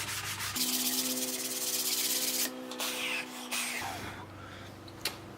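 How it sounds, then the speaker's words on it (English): Sandpaper lightly scuffing a piece of a Lego display case to knock down high points, heard as close, steady rubbing strokes with a brief pause and shifts in pressure. "Sandpaper in here, give it a light scuff, take those high points off."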